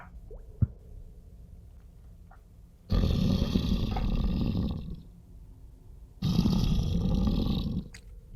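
A human voice imitates a faint breathing noise deep in a cave, making two long, rasping breaths that each last about two seconds, separated by quiet.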